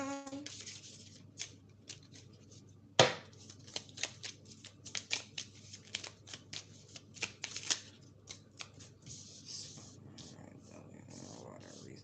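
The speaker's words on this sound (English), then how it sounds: "I was just shuffling." Tarot cards being shuffled, a run of quick crisp riffling snaps and flutters with one sharp slap near the start, continuing steadily at close range over a faint background hum.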